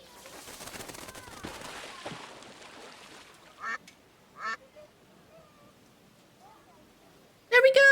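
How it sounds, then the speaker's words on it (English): Ducks quack in the Paris point-and-click game Secret Files 2: Puritas Cordis, a few separate nasal bursts after a noisy rush, then a loud sudden squawk near the end, with some talk mixed in. "Quacking away."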